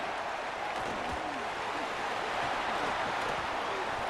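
Steady roar of a stadium crowd cheering a punt return in the video game College Football 27, a dense continuous wash of noise at even loudness with faint voices mixed in throughout.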